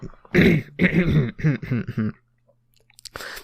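Someone clears their throat several times in a row, rough guttural bursts close to the mic, followed by a brief pause and a short sound.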